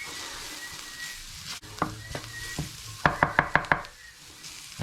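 Onions frying in a tablespoon and a half of oil being stirred, with a soft sizzle under scattered spoon knocks and then a quick run of five sharp taps against the pan, close with no talk.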